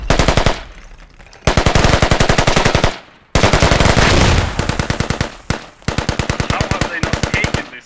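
Rapid automatic gunfire in a Squad military shooter battle, loud and close, coming in sustained bursts separated by short pauses.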